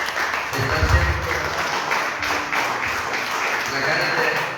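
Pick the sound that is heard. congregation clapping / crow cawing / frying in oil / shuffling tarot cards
congregation clapping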